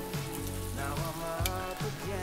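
Eggs frying in a hot pan, a continuous crackling sizzle with small pops and occasional stirring or turning sounds, close by and with no speech.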